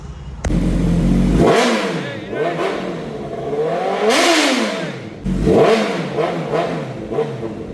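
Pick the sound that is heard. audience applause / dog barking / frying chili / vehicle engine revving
vehicle engine revving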